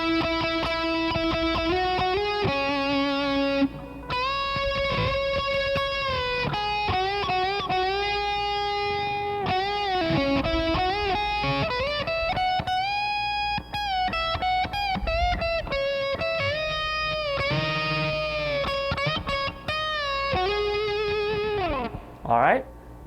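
An electric guitar plays the third solo of a song with an effects-laden, distorted tone, sustaining bent and vibrato notes in flowing phrases that briefly break near the end.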